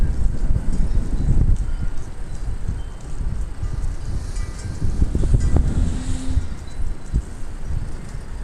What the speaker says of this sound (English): Wait till a nice gust of wind blows